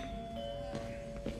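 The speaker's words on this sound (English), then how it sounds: "That doorbell's been broken for years." A faint electronic chime from a long-broken doorbell in the video game Marvel's Spider-Man: Miles Morales holds a steady, ringing tone over low background hum, with a slight bump in loudness near the end.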